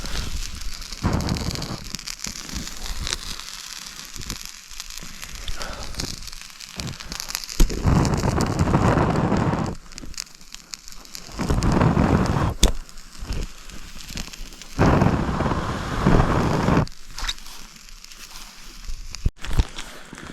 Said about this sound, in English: It started raining even more heavily, so the rain turned it off.